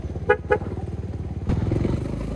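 A 1999 Suzuki Thunder 250 motorcycle runs close by with a steady, low, throbbing idle. Two short, higher toots come early, and the engine swells slightly louder halfway through.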